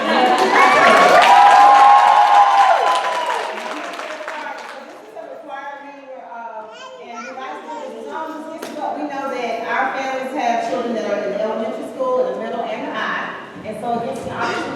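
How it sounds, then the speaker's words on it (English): Audience applause and cheering at a school's annual Title I meeting swell loudly for several seconds, then fade into crowd chatter and voices that keep going under the rest. "So I need y'all to clap it up for me"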